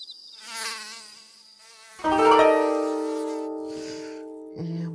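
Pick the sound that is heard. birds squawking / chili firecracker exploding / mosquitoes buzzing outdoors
mosquitoes buzzing outdoors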